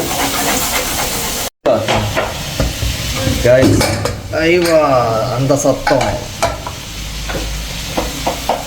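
Tomatoes sauté in a pan for a Kuttanad-style duck curry, a close, loud sizzle with stirring and pan clatter, while a person talks over it.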